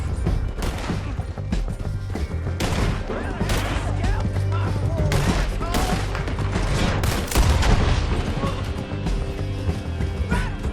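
Dense gunfire in the video game Red Dead Redemption 2, rapid overlapping gunshots and volleys over nearly eleven seconds, loud and near, with shouting voices mixed in.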